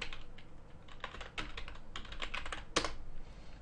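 Quick typing on a computer keyboard, a dense run of close, crisp key clicks with one louder keystroke near the end, no speech.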